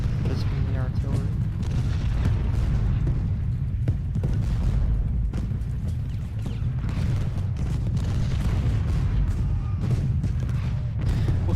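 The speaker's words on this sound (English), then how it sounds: "They're losing men just from the artillery." Artillery fire in the Civil War strategy game Ultimate General: Gettysburg, a continuous low rumble of distant booms and scattered cannon blasts rolling under someone talking.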